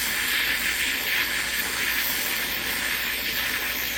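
A preheated graphite rod stirring molten borax flux while making silver solder gives a steady, loud hiss that runs the whole time without a break.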